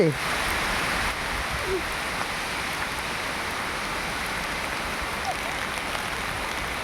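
Rain falling outdoors as a steady, even hiss of drops on surfaces, continuous and fairly loud throughout.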